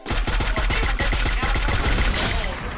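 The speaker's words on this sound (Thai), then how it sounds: "มันเหมือนมีคนยิงอ่ะ" Rapid bursts of automatic gunfire from a Free Fire mobile battle royale match, a loud, dense string of sharp shots in quick rhythm, with brief talking underneath.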